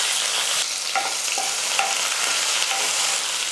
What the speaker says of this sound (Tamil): வெங்காயம் வந்து நல்லா கொஞ்சம் கலர் மாறுற அளவுக்கு நல்லா வதக்கிக்கலாம்